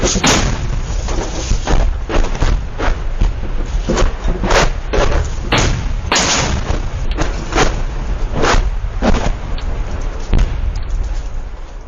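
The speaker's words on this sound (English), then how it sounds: "That's what fucking live fucking missile rounds sound like" Live missile rounds firing roughly fifty feet from a residential property, a rapid irregular series of loud, close, sharp booming blasts repeating throughout with a constant rumbling background.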